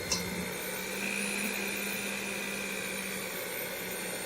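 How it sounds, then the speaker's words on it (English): An electric whisk beats cheesecake mixture in a bowl, giving a steady, even mechanical whir that holds constant from start to finish with no voices. "now that I've combined the cheesecake mixture together, I'm going to whisk it up"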